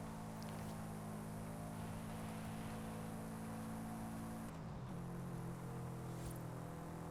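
Car driven fast in the dirt races of the video game Forza Horizon 5: a continuous, loud engine drone holding steady throughout, with a brief shift in pitch midway, and no talk.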